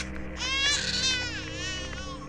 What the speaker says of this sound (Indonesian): Ternyata itu suara si bayi.